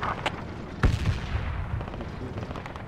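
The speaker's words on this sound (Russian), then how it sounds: "Бросаю гранату на 165, я видел там противника" A single muffled explosion from a thrown grenade in a tank combat game, a short heavy boom over steady background rumble, with no voices.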